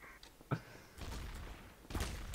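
Shotgun blasts from the video game Garry's Mod, Trouble in Terrorist Town mode: a sharp shot followed by two heavier, echoing bursts a second apart, fairly loud over faint game ambience.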